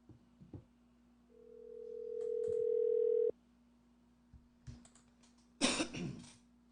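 A telephone dial tone plays while a call is being placed, a steady flat tone lasting about two seconds that cuts off abruptly, with scattered coughs and handling noise before and after.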